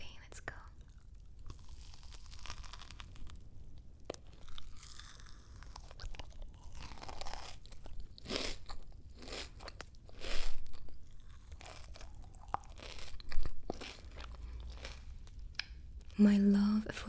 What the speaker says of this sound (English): So I'm going to try to bite inside the cream, which is very crispy.